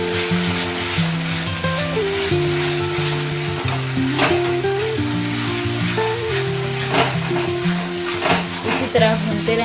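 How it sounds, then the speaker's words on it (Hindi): Ginger paste sizzles and fries steadily in a pan while being stirred, a dense continuous crackle close up, with music playing underneath throughout. "देखिए डाल दिए हैं अदरक के पेस्ट, इसमें डाल करके पूरा भूनेंगे।"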